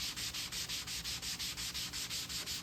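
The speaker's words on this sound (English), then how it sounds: "This you can really scrub on because of that textured laminate." Textured laminate on a Tempest arcade cabinet being scrubbed hard, a steady back-and-forth rubbing with an even, rapid rhythm of about five strokes per second, close and continuous with no voices.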